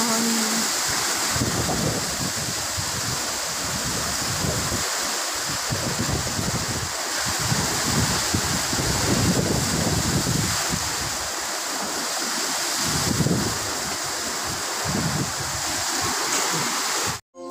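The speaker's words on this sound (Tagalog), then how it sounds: "Ang lakas po ng hangin." Strong typhoon winds from Typhoon Uwan roar steadily at a landing pad in Albay, a loud, continuous rushing and buffeting across the microphone that cuts off abruptly at the end.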